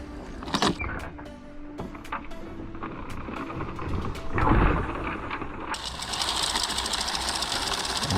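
Open hopper on a lawn fertilizer spreader dispensing CarbonPro-G granules over Bermuda grass, a steady mechanical whir with clicking and rattling, brief knocks early, and a broader hiss of scattering granules building toward the end.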